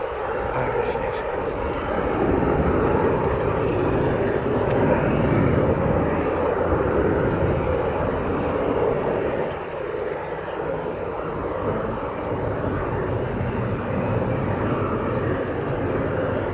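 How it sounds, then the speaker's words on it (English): A Boeing 737-300, 29 years old, roars through its takeoff roll with a steady, loud broadband engine rumble that holds throughout, with faint voices audible underneath. "that takeoff roll before the building."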